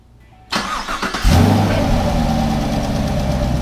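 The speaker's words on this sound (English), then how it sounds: "go ahead, start your car for the first time" A 2016–2021 Camaro SS V8 fitted with an E85 flex fuel kit cranks briefly after a quiet moment, then catches with a loud burst and settles into a steady, deep, close idle.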